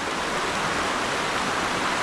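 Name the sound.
waterfall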